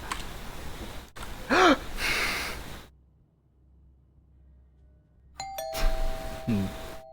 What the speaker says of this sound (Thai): กระดิ่งเรียกกูด้วยไอ้สัตว์